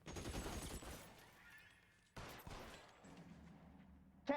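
A burst of rapid gunshots from the video game L.A. Noire rings out, fades, and is followed by a second shorter volley and a sharp final crack, all at moderate loudness with no talk.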